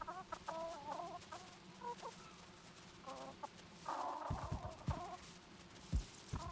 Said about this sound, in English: am I seeing a lot more chickens?